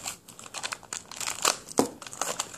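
Close, irregular crinkling and crackling of plastic wrap on a Shopkins toy 12-pack being handled and pulled at, with sharp bursts and brief pauses, no talking.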